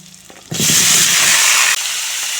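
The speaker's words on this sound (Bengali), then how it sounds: "এখন দিয়ে দিচ্ছি কেটে রাখা টমেটো" Chopped tomatoes drop into a pan of frying ginger and garlic, setting off a sudden loud sizzle that hisses steadily for over a second before easing to a lower, continuing fry.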